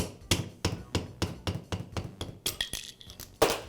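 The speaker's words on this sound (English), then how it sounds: "I'll use a rubber mallet to tap the armature shaft free from the bearing" Rubber mallet tapping an armature shaft out of a bearing on a Makita band saw held in a vise, about a dozen sharp, evenly spaced knocks close up, then quicker lighter taps and a final louder strike.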